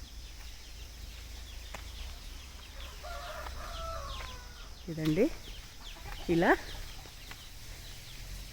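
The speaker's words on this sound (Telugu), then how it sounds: "చిన్నన్న వాళ్ళ ఇంట్లో అన్ని రకాల కోళ్ళు ఉంటాయండి" Chickens at a farmhouse with a fish pond nearby, a couple of short clucks and calls rising above steady outdoor background noise, fairly distant, with a person speaking briefly.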